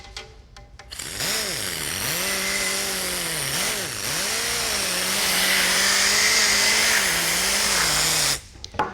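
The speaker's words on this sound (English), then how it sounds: "grab some Flitz polish, put it on a wool bonnet, about a quarter size, go to work on the molding" A power polisher with a wool bonnet buffs Flitz polish into the molding of a full-size Ford Bronco, its motor whining loud and close, pitch rising and dipping with load, then cutting off sharply.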